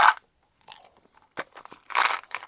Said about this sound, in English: I'm going to make some cow noises, chewing.